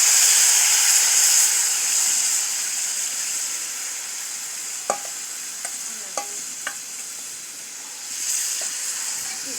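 Onions sizzle and fry in hot oil in a pan for a Bangladeshi home-cooked country chicken and sweet pumpkin dish, a steady hiss with a few sharp clicks and pops of stirring near the middle.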